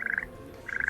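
A pet toad in the game Hogwarts Mystery gives two short, rattling trilled croaks separated by a brief gap, sounding close and clear.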